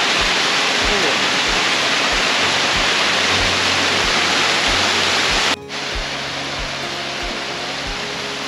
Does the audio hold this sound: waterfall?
yes